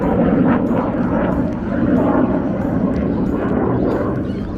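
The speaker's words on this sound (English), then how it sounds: "I quite like seeing the aircraft training." A low-flying training aircraft passes overhead outdoors, a loud, steady broadband engine roar that holds for several seconds with a slight swell and fade and no talk over it.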